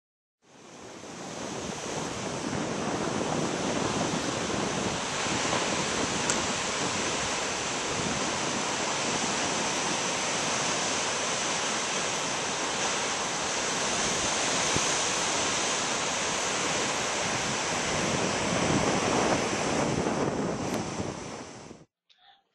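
Ocean surf breaking along the cliff-lined coast of 12 Apostles National Park in Australia, a steady, loud wash of waves rolling in continuously with a wind-like roar, no voices.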